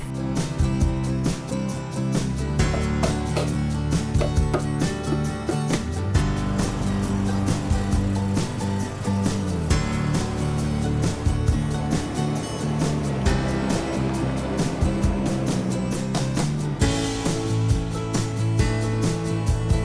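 A Jaguar XJ40 saloon under restoration, heard from inside on a test drive after front suspension work: a steady engine and road drone continues throughout, with frequent knocks and rattles over the surface and no talking.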